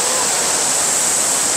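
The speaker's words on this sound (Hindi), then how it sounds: "ये ऐसा अब पानी छाटे मारता हुआ ये पानी जो है ना आ रहा है आबशार का" Kawai waterfall in Shogran, Pakistan, with water splashing down: a close, loud, steady hissing roar of falling water, heard alone.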